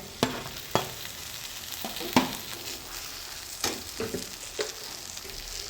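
Roasted, peeled eggplant going into a pan with spring onions and being stirred, giving a soft sizzle with several sharp scraping and stirring clatters spread across the clip, no talk.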